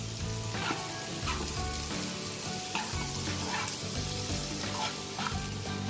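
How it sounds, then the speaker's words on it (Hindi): Vegetable momos filled with carrot and cabbage fry in a hot pan, giving a loud, steady sizzle throughout, with a few soft stirring scrapes and no voices. "जो वेजिटेबल वाले थे वो हम इसमें सौते कर लेंगे"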